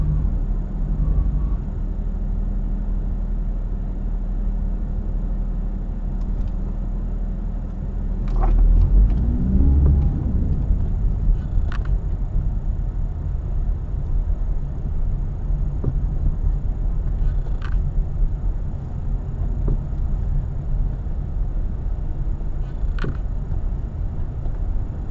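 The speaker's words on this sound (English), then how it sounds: "Alright, engaging drive-by-wire." A real autonomous car driving itself in drive-by-wire mode through a set route, giving a steady low road rumble and engine hum with faint clicks, heard from inside the cabin with no talking.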